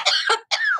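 A pet bird imitates a human cough, producing two quick, close, breathy coughing bursts separated by a brief pause, loud and alone.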